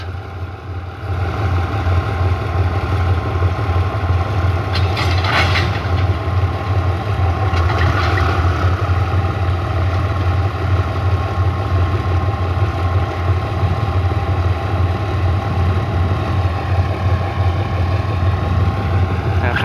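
State Railway of Thailand diesel locomotive 4005 idles steadily in the Bang Sue yard while it builds air pressure before hauling stone train 1709, a constant low rumble that stays close and even throughout with no voices.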